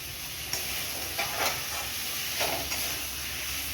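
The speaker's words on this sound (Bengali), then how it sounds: "মশলা কষিয়ে নিয়েছি, এবার আমি আলুটা দেব" Potatoes go into a spice paste frying in a pan. A steady hiss of frying carries on throughout, and a few soft scrapes of stirring rise above it.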